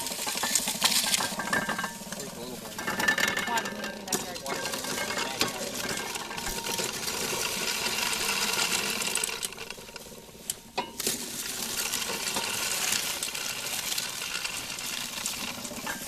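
An Improved Hocking Valley corn sheller, made by Hocking Valley Manufacturing Company of Lancaster, Ohio, runs steadily with busy rattling, clinking mechanical clatter that holds fairly even throughout, with no talk.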